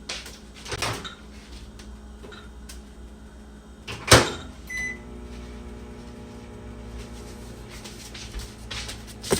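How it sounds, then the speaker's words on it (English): A kitchen microwave oven is started to cook a small bowl of egg, with door and button clicks, a sharp clack, then a steady low hum of the oven running; quiet throughout, no talking. "So I'm gonna put that in the microwave."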